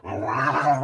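A dog named Lucy Fur lets out a low, continuous growl, close and moderately loud, sustained for nearly a second after a quick onset.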